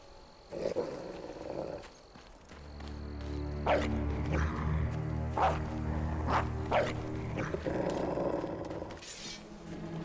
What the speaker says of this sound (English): Roll over, you stupid mutt.